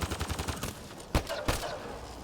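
Gunfire in the video game Mass Effect: Andromeda, with a rapid rattling burst followed by two sharper blasts, the second likely the grenade going off, loud and close with no talk.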